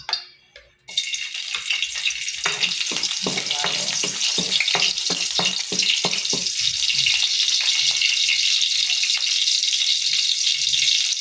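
Garlic sizzling in hot oil in a pan while cooking sinigang, a dense steady crackle of fine pops that starts after a brief clatter and continues loud and close throughout.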